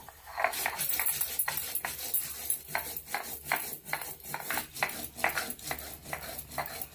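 Cumin and chili being ground fine into a spice paste on a grinding stone, with steady rhythmic scraping and knocking strokes repeating close by, no voices.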